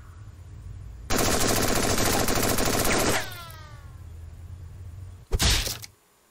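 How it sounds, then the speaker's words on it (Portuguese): M4 rifle gunfire in the Henry Stickmin video game, a rapid two-second automatic burst followed by tinkling shell casings, then a single sharp loud shot after a short pause. "Vamos usar uma M4 aqui, vai."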